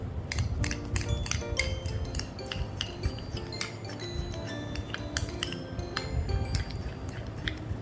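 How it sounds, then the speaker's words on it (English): Homemade slime ingredients being stirred in a bowl, a quick run of close clinks and taps from a utensil against the bowl over a soft wet mixing sound, with no talking. "Mix everything together."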